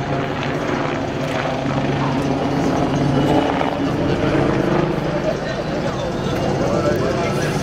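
The Red Bull helicopter flies at the 2015 La Ferté-Alais airshow with a steady, loud rotor and engine drone throughout, while someone talks over it.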